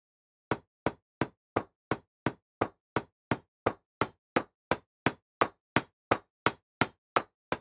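Ball sound effect in the video game Roundrick, a sharp, evenly spaced knocking tap repeating about twenty times at a steady quick rhythm, each hit clean and isolated against silence.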